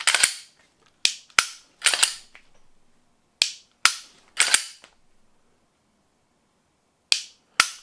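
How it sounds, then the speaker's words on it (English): Glock 26 and 43X pistol triggers dry-fired, sharp isolated clicks arriving singly and in quick pairs with gaps of silence between, close and crisp. "A little bit noisier of a trigger. Here to click more."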